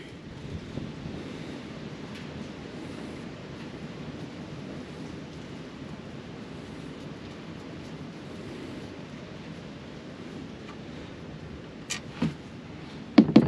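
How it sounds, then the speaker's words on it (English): Steady broadband wind rushing outdoors, a continuous low buffeting roar with microphone wind noise, loud and unbroken, with a few sharp clicks near the end. "It's a windy day"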